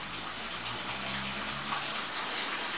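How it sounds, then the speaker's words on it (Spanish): A heavy rainstorm in Mexico City pours down outside as a dense, continuous rushing hiss of water, steady and fairly loud throughout, with no voices. "Si se escucha agua, es que está cayendo un tormentón acá en la Ciudad de México."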